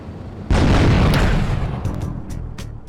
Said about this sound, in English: you can actually head towards the bistro and still achieve the same objective